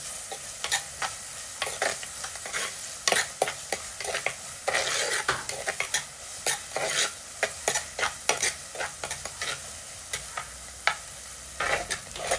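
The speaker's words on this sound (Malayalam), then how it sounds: "വെളുത്തുള്ളി ഇഞ്ചി നീളത്തിലരിഞ്ഞതാണ് ചേർത്ത് കൊടുക്കുന്നത്. ഇനി അതും നല്ലപോലെ ഒന്ന് പച്ചമുളകൊക്കെ മാറി നല്ല വഴണ്ടി വരട്ടെ." Sliced garlic, ginger, shallots and green chillies sauté in a pan, with a soft steady sizzle under a quick series of clicking, scraping spoon strokes against the pan.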